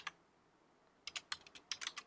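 Code being typed on a computer keyboard: one keystroke, a pause, then a quick uneven run of close, crisp clicks in a quiet room.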